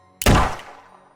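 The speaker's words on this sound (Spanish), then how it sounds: "un segundo disparo hizo caer de bruces a un Román que amenazaba con seguir los pasos de Victoria" A single gunshot sound effect in a Spanish audio drama lands as a sharp, heavy bang. Its booming tail decays over about half a second in otherwise quiet surroundings.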